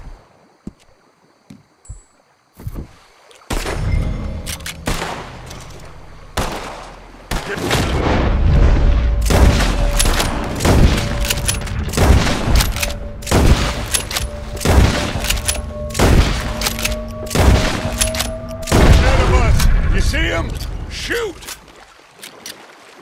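Heavy sustained gunfire from Red Dead Redemption 2, loud rapid shots and booming blasts pounding steadily for about twenty seconds, with brief scattered shots leading in.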